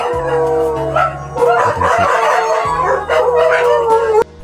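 Several long, wavering dog howls rise and fall close by, overlapping with yips and whines, continuing almost without pause.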